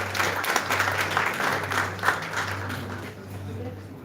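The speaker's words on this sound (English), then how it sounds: "Give a huge round of applause, everyone." Applause from a conference audience at a certificate presentation, dense and sustained clapping close by that fades toward the end, with a low steady hum underneath.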